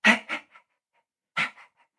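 A human voice imitating a laughing dog: two quick breathy huffs, a short pause, then two more panting bursts, close and fairly soft.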